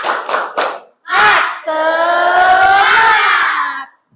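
A school class doing a rhythmic spirit clap: a few quick claps, then a loud shout, then the children's voices joining in one long sustained chant, close and loud.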